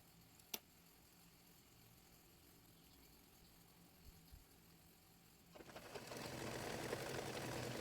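Near-silence with a sharp tick at the start, then a sewing machine starts up and runs in a steady, continuous whirring buzz, double-stitching the leg hem of palazzo pants.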